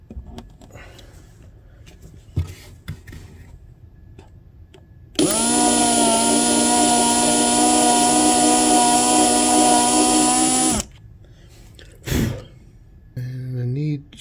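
A drill bores into a Takamine ST212 12-string acoustic guitar during a repair. It gives a loud, steady, close whine lasting about five seconds, then stops abruptly, with quiet talk and shop sounds before and after.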